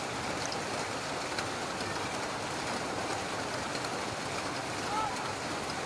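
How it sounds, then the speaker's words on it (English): Heavy rain falls on a football stadium during a Goa Pro League match, a constant dense hiss of rainfall with a faint commentator's voice underneath. "today is the first time when it is raining so heavily at the Diller Stadium today"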